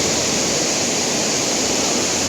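Abbey Falls in Sakleshpur pours water down a drop of about thirty-five to forty feet, making a loud, steady, close rushing roar of falling water that stays unbroken throughout.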